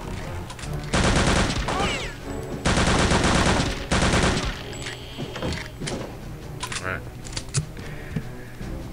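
Gunfire from the video game Return to Castle Wolfenstein: loud, sustained bursts of automatic fire in two long volleys, then scattered single shots over game music and ambience.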